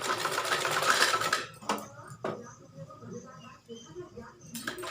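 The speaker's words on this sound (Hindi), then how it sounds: "ये देखिए इस तरह से मैं इस पर पूरे में सिलाई एक पतली सी डाल दूंगी।" A domestic sewing machine runs a thin line of stitching around the neckline of a gown, whirring steadily at first, then stopping and starting in brief bursts with soft clicks and handling noises, close by.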